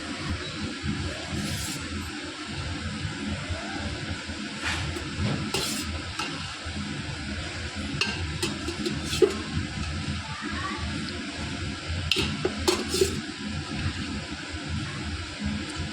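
Three to four ladles of oil crackle and sizzle steadily on a hot griddle pan on a gas stove, a constant low hiss with occasional scrapes and light metallic taps.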